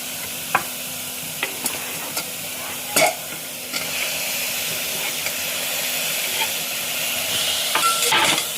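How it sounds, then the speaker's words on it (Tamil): Onions and spices sautéing in hot oil in a pan for pepper chicken gravy, a steady close sizzle broken by occasional scraping stirs and sharp spatula taps against the pan. "இது நல்லா எண்ணெய் பிரிகிற அளவுக்கு வணங்கட்டும்"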